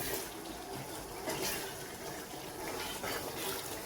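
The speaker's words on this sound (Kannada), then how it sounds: "ಅವೇ ನೀರು ಬಿಡ್ತೀನಿ" Water poured into a Tulunadu-style chicken pulimunchi curry, a steady close pouring and splashing wash that runs throughout without pause and with no talk.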